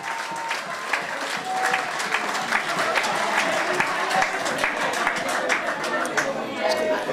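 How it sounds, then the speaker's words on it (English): Sustained applause from an audience responding to thanks for Ministry of Finance workers, dense steady clapping for about seven seconds with faint chatter mixed underneath. "We want to give the workers at the Ministry of Finance a tremendous round of applause for their efforts."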